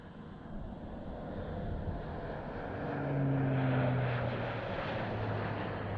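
An Airbus A400M military transport plane flies at the RIAT 2017 airshow, a deep propeller drone that swells louder as it passes, with a steady rumble and no voices.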